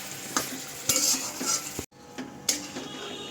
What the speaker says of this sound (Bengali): তারপর সব কিছু ভালো করে আমি মশলার সাথে মিশিয়ে নেব। কিছুক্ষণ এটাকে ভালো করে কষিয়ে নিতে হবে।